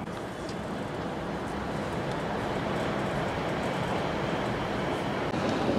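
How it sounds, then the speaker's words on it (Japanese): An E5 series Shinkansen runs at speed near Shin-Shirakawa on the Tohoku line, heard as a steady, dense rumbling roar that fills the whole stretch without a break. "列車はちょうど新白川付近を通過中。"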